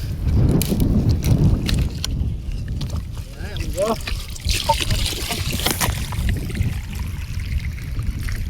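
Water gushes from a burst irrigation pipe on a farm field, splashing and trickling steadily in the foreground while someone talks over it.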